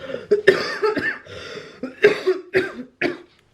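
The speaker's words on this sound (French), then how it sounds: "je vais tousser" A person coughs repeatedly in harsh, separate bursts with short pauses between them, close and fairly loud.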